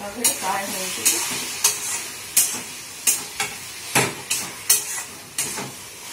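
Tomato masala frying in a pan in a Bengali home kitchen, a steady sizzle broken by about nine sharp scraping strokes of a spoon stirring at an even rhythm, close and alone.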